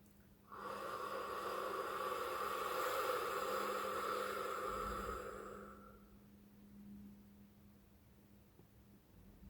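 One long, deep breath during a guided affirmation exercise, a steady airy exhale lasting several seconds and then fading to near silence.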